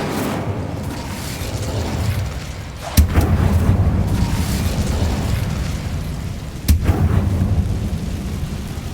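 The Incendio fire spell cast in Hogwarts Legacy, a loud roaring whoosh of flame with sudden booming bursts around three and six seconds, sustained and close with no talking.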